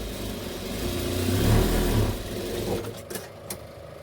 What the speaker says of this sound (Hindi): और इसको हम पलटा के फिर से हम सिलाई लगा देंगे,